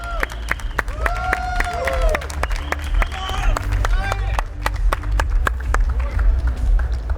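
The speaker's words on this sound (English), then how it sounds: "Let's hear an applause for Thoralf" A crowd at a Magic: The Gathering Pro Tour watch party in Barcelona applauds a Pro Tour champion, with dense clapping and some cheering mixed with chatter and tonal music or sound effects.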